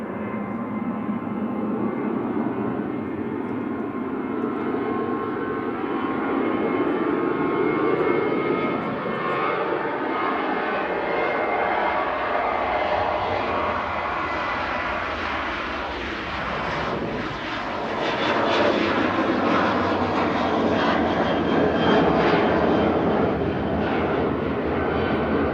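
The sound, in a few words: Malta Air Boeing 737-800 jet departing to Brussels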